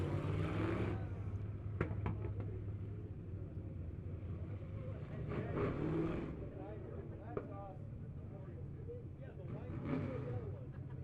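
Hornets-class race cars roll slowly around the Lebanon Midway oval before the green flag, a low, distant engine drone running underneath a loud announcer's continuous commentary.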